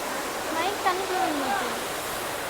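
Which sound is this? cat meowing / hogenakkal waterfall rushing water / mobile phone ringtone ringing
hogenakkal waterfall rushing water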